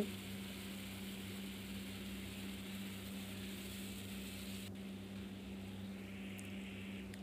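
Okra cooking with chili and turmeric for a Bengali mustard okra dish, a faint, steady sizzle over a low constant hum, quiet and unbroken.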